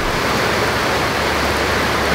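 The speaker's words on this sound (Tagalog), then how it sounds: "Lakas ng ulan dito." Heavy rain pouring steadily outside a house and garage during a rainy camping stay, a loud, dense, unbroken hiss with no talk.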